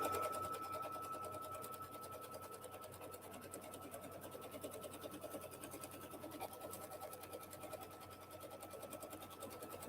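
Computerized quilting machine running steadily while it stitches a trim line along a quilt, giving a continuous close mechanical hum with a fine rapid needle rhythm throughout and no voices.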